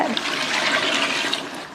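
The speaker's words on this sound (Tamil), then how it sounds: "அடுத்து தண்ணி சேர்த்துடலாம்" Water gushes steadily into a biryani pot holding sautéed chicken and lemon juice, a close, continuous rushing pour that eases off near the end, with no talking.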